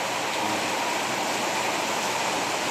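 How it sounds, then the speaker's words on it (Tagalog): Heavy rain pouring steadily at Nubalidse, a dense, loud, unbroken hiss of water with no gaps or talking. "Lakas ang ulan."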